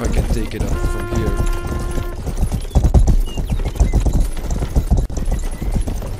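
A horse gallops with rapid, rhythmic clip-clop hoofbeats in the medieval video game Rustler (Grand Theft Horse), close and steady throughout. A brief tonal whinny-like sound comes early, and someone talks over the hooves.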